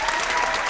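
A small group claps together in a room, a brief burst of steady, close applause with no voices over it.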